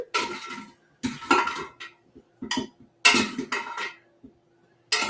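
A spoon scrapes and clinks against a dish as cooked food is transferred, in short bursts of clattering separated by brief pauses, close and fairly clear.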